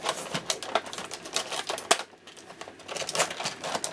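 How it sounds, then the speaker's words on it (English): Hard plastic doll packaging for a My Little Pony Equestria Girls Twilight Sparkle doll is pried and cracked open, a rapid series of sharp clicking snaps and crinkles close by, with a short pause partway through and no talking. "No fun opening or unboxing because of this hard plastic that they put."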